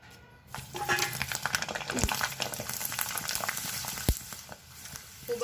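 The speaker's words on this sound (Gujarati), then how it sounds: "એને મેં તમને તળીને બી બતાવી રહી છું" Steady crackling sizzle of sabudana potato chakri frying in hot oil, with a couple of soft knocks, continuous and fairly close.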